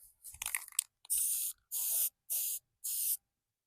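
Spray paint hisses onto a Jeep Wrangler TJ wheel center cap in four short, even bursts, preceded by a few faint scrapes and crunchy handling noises, close and with no voices.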